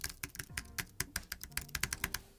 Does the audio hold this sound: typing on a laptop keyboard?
yes